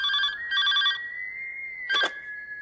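A telephone rings at midnight in a Telugu comedy film scene: two quick electronic ring bursts, then a third after a short pause, clear and close with no talking.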